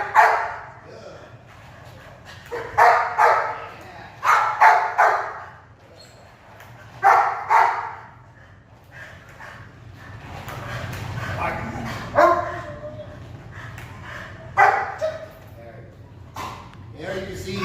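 A dog barks in short bursts during energetic ball play, several sharp close barks spaced a second or two apart, with someone talking over and between them.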